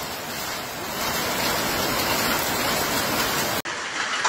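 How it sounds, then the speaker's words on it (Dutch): Hail falling in Suriname, a steady loud hiss of countless pellets striking surfaces, continuous and dense, briefly cutting out near the end before resuming. "Hagel, hagel, hagel, hagel."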